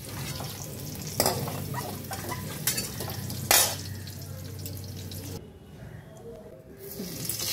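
Butter heats in white cooking oil in a pan, producing a continuous close sizzle with a few sharp utensil scrapes and clinks before it briefly drops quieter near the end.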